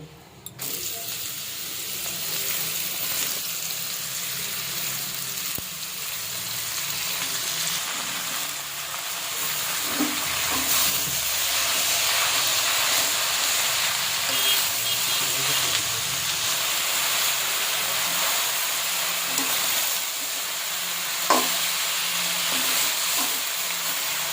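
Chopped bottle gourd goes into hot oil tempered with white cumin and a bay leaf, raising a loud, steady hiss that swells and holds, with scattered stirring knocks near the pan.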